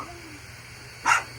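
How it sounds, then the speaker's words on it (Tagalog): A small pet dog gives a single short, sharp bark close by, standing out briefly against a quiet indoor hum. "Aso nyo po? Ang cute niya."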